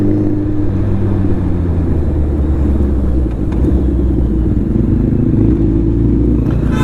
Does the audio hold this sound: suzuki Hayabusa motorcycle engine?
yes